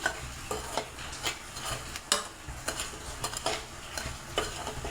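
Coarse broken wheat roasting in a pan for a sweet dish, a soft sizzle punctuated by regular spatula scrapes and taps about every half second, close and alone.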